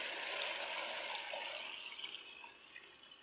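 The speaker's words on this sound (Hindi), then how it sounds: "2 ग्लास हमने यखनी डाली है और 1 ग्लास हमने एक्स्ट्रा पानी डाला है" Chicken yakhni stock and water poured into a cooking pot with onion and green chili masala, a steady hissing liquid pour that gradually fades.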